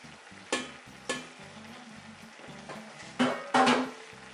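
Sauerbraten meat searing in a pot makes a quiet, continuous sizzle broken by several louder hissing bursts and pan clatter, near and without talk.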